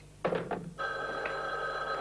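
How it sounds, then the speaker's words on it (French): A telephone rings once in a quiet room, a short bright double burst followed by a lingering electronic tone, with no voices. "Allô, Yulna?"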